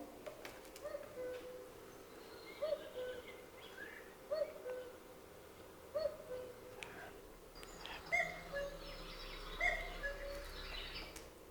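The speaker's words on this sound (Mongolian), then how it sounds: "Одоо бүгдээрээ хөхөө шүүнийхаа дууг сонсцгоё" A cuckoo calls repeatedly in a faint outdoor recording, short two-note hoots spaced about every couple of seconds over a quiet background with soft chirps from other birds.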